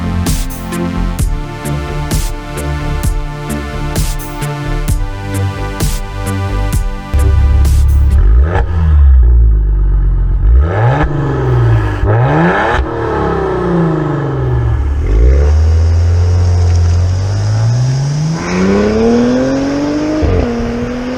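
A 2021 Maserati Levante S, a Ferrari-powered SUV, drives hard with a loud engine rising and falling through repeated revs and gear changes, close up, with no talking.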